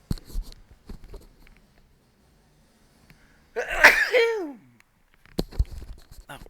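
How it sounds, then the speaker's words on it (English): One loud, sharp sneeze bursts out close to the microphone, fading quickly, with faint brushing and small handling noises in a quiet room around it. "Got a sneeze coming up."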